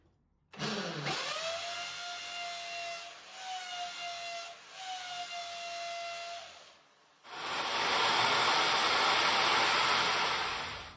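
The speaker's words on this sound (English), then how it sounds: "we might need the hammer function now once we get to the brick" A hammer drill whines steadily with a high pitched tone, briefly dipping twice, then switches to a louder, harsher grinding roar as it bites into a brick wall.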